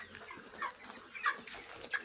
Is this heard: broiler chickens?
yes